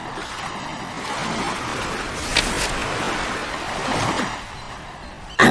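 Ocean surf rolls and washes ashore in a steady broadband rush, with a brief crest near the middle and a louder splash at the end, fairly close and without any talk.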